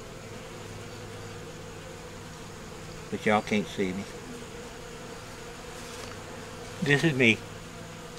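Honey bees hum in a faint, steady buzz throughout, while someone talks in two short bursts over it.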